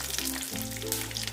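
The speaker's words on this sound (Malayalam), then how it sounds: "നമുക്ക് ഇതിനകത്തേക്ക് കടുക് ഇട്ട് കൊടുക്കാം. വറ്റൽമുളക്, കുറച്ച് കറിവേപ്പില." Mustard seeds, dried red chillies and curry leaves crackle and sizzle in hot oil, a brief close-up burst of frying over a low steady hum.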